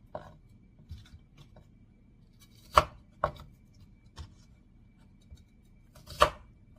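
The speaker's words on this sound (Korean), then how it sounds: "전복 크기만큼 이렇게 잘라줍니다" Sparse knife chops knock on a cutting board while abalone is cut into pieces, a few sharp cuts spaced irregularly among softer taps, close and quiet.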